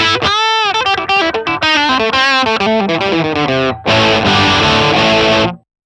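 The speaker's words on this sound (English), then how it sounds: "All right, so now I'm going to add a drive. Distortion." Electric guitar played through a distortion drive on a Line 6 POD Go with the Elmsley amp model, loud saturated chords and single notes ringing in bursts before a final sustained chord cuts off.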